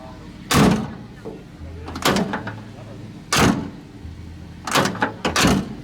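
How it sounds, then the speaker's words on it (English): A heavy metal door of a classic Mercedes truck opened and shut several times, loud solid clunks with a metallic ring, spaced a second or two apart, a voice briefly underneath. "I love those metallic door sounds of classic Mercedes trucks"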